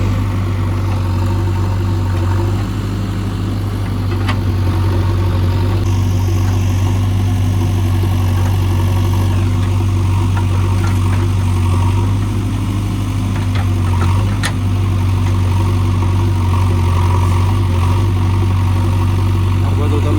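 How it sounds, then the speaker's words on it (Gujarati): An earthmover engine runs steadily while levelling farmland, a loud continuous low rumble with idling vibration throughout, and voices talk over it at times. "આપણે ઈશ્વરભાઈનું મશીન ચાલુ છે, ઈશ્વરભાઈ પોતે ચલાવે છે."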